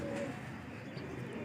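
Pigeons cooing in a breeder's loft full of high-quality fancy pigeons, a steady low murmur of overlapping coos, fairly close and continuous.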